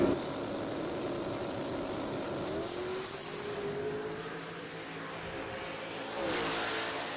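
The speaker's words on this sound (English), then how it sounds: "Jason Wolf, here in a single turbocharged 1989 Notch Mustang." A single-turbocharged 1989 Notch Mustang races down a drag strip at an NMRA event, its engine roaring steadily at high rpm with a rising pitch as it accelerates, backing off briefly and then surging again near the end.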